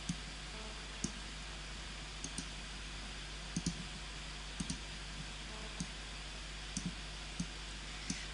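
A computer mouse clicks sparsely in a quiet room, single faint sharp clicks at irregular intervals over a low steady hum.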